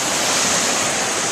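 Ocean waves breaking on the beach at Destin, Florida, forming a steady, loud wash of surf with no distinct individual crashes and no voices.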